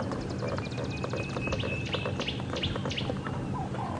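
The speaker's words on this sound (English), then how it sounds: "It's a little swallow." A young swallow or martin perched about six feet away on a morning safari drive at Djuma Game Reserve chirps in rapid repeated high tweets, with other bird calls and steady outdoor background noise.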